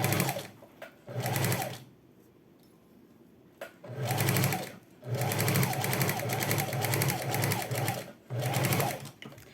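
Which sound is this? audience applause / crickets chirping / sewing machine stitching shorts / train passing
sewing machine stitching shorts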